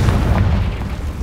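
Confringo explosive spell cast in Hogwarts Legacy, a short deep boom with a rumbling low-end burst, loud and close, heard alone.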